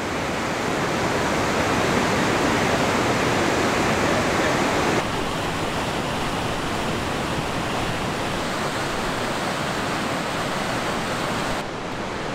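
Rushing river in Kings Canyon National Park, a steady dense broadband roar of flowing water that stays constant and fairly loud throughout, with a slight drop in level partway and near the end, no voices.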